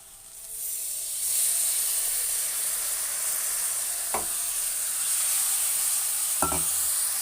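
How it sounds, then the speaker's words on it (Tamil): Tamarind water hits a hot pan of okra kuzhambu and a loud, steady sizzle and hiss follows, with a couple of soft clinks from a utensil. "புளி தண்ணி"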